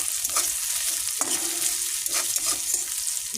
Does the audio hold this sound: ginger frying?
yes